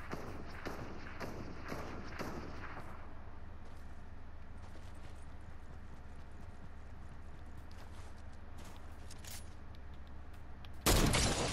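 Gunfire in Fortnite, sounding as a quick run of sharp, distant-sounding shots at the start, then a lull of faint scattered pops, ending in a sudden loud burst.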